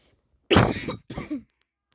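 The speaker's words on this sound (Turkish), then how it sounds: "videonun içinde sık sık öksürebilirim" A hoarse, close cough followed by a shorter second cough with a throaty rasp, then silence.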